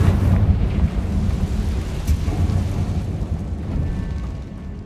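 A Confringo fire spell is cast in the video game Hogwarts Legacy, producing a sustained, loud, thunder-like roar of blasting noise that rumbles steadily throughout.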